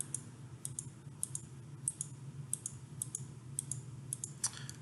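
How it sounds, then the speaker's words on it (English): Crisp computer mouse clicks recur in a steady series of single, close taps over a low background hum, with no one speaking. "So I'll click through."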